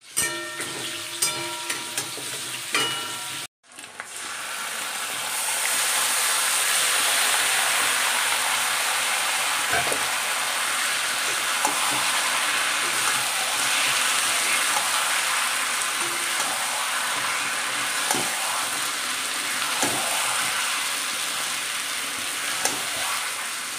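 Onion paste sizzling in hot oil in a pan for a Sunday chicken dish. A steady, close frying hiss runs throughout after a short dropout near the start, with faint stirring clicks.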